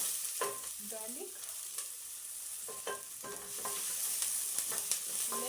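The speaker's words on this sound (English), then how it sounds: "So we are going to now add in our garlic." Minced garlic sizzling with onion in a pan, a soft steady fry broken by repeated stirring clinks and scrapes of a utensil.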